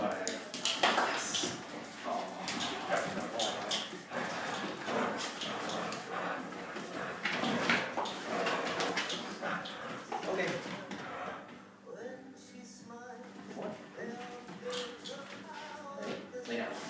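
A puppy yips and whimpers nearby while people talk over it, the small dog sounds popping up repeatedly through the conversation.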